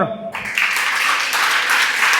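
Church congregation applauding together during a Spanish-language worship service, a steady wash of clapping that swells after a brief quieter start and holds loud and full to the end.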